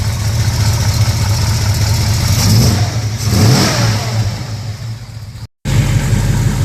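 A 1968 Chevrolet El Camino with a 396 big-block V8, being tuned up, idles with a loud, deep, loping rumble and swells briefly as it revs, then cuts out for a moment before resuming.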